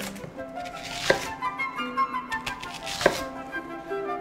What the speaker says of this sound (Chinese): 然后洋葱厚切